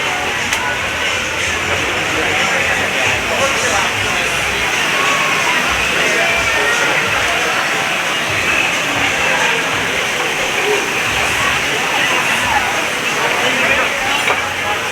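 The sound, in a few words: indoor waterfall at Rainforest Cafe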